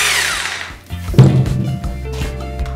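A Makita 2470 rotary hammer runs up with a dense motor whine and a steady mechanical drone, getting louder and more grinding partway through, heard close and alone without any talk.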